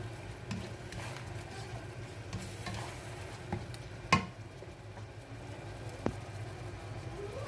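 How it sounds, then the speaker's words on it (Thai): Sugar being stir-fried into sweet and sour pork in a pan, a quiet sizzle under intermittent spatula scrapes and a sharper clatter midway, no speech. "แล้วเราก็ใส่น้ำตาลทรายลงไปค่ะ ผัดให้เขาเข้ากันนะคะ"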